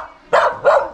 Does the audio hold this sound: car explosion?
no